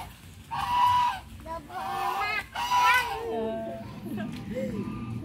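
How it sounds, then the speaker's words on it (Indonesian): Geese honk in a series of nasal, drawn-out calls near a bamboo grove, loud and fairly close, with voices chattering in the background. "Eh, angsa, angsa."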